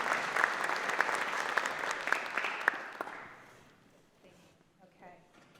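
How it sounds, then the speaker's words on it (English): Audience applause for a guest speaker at a genealogical society lunch talk: a steady round of many hands clapping, fairly close, that fades away after about three seconds into near quiet with faint voices. "Can we have a round of applause for Diane?"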